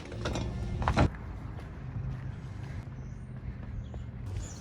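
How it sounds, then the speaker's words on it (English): A socket ratchet clicks as it works on the steering wheel of a Miata, with a close burst of rapid clicking near the start and then quieter handling noise, with no talking. "So now we have our socket and we put it on."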